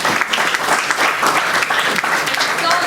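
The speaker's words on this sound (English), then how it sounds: "Let's start our sessions by giving a big round of applause." Audience applause at a one-day international MBA conference, a dense, loud wash of many hands clapping continuously for a few seconds with no break.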